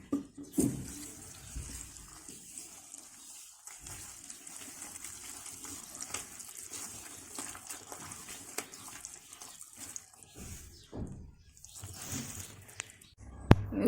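Warm water with a little oil splashes and gurgles steadily for several seconds as it is mixed into pua batter, with soft clinks and stirring noises, close by, with no talking.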